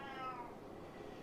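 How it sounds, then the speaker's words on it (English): A domestic cat gives a single short meow, close and fairly quiet, with no talking over it. "That's my cat"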